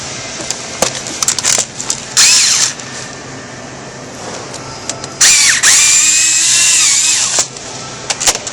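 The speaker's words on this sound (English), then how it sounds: "And then we're going to pilot first hole. Put our screw in." A power drill pilots a hole and drives a screw while installing an exhaust port filler panel on a 2005 or later C6 Corvette, loud close bursts of whining motor that start and stop repeatedly, with rattling between.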